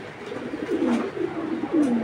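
Pigeons cooing close by, a few soft rolling coos in a slow repeating rhythm, with no talk over them.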